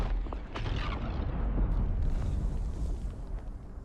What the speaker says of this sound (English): Yeah, like, there's like constant explosions here.